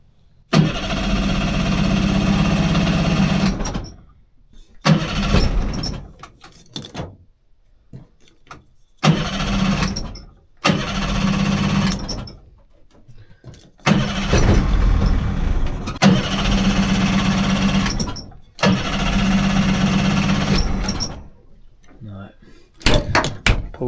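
An old 30HP outboard motor on a 14ft alloy boat, run on choke, cranks and catches in several loud bursts of rough running, each cut off by short quiet gaps.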